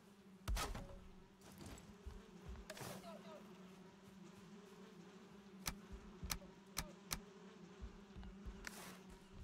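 Bees buzzing around a beehive in Valheim, a steady low drone running throughout with scattered sharp ticks and clicks, while people talk over it.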